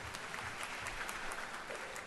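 Audience applause fills the hall at a Panchayat to Parliament program in the Samvidhan Sadan, a dense, steady wash of many hands clapping, moderately distant, with no talking.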